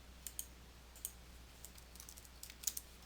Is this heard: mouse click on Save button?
yes